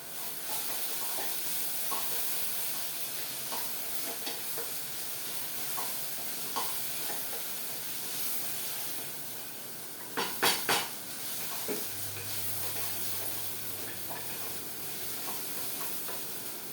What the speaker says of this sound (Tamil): இஞ்சி பூண்டு மட்டும் பச்சை வாசனை போகிற வரைக்கும் வதக்கணும்